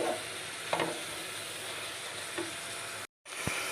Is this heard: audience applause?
no